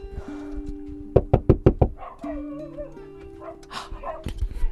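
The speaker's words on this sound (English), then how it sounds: "They're home. The dogs are barking." Dogs bark at a house as visitors arrive at Christmas in Amish country: a quick run of five or six sharp, loud barks close by, followed by softer whines and voices.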